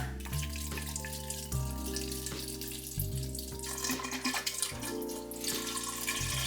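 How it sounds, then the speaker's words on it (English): Vodka is poured into a glass jar of lemon peels, giving a steady, close liquid trickle and gurgle with a few splashy surges. "we're gonna just pour, in this case, vodka, right into the jar"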